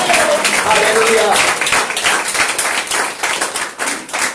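A congregation claps in a church, loud and fairly close, with the crowd's voices mixed in and cheering over the sustained applause.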